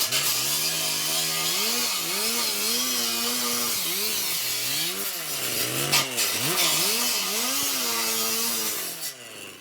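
Power saw cutting through material for a raku kiln: a loud, sustained whining cut whose pitch dips and rises repeatedly as the blade loads and frees, ending as the cut finishes.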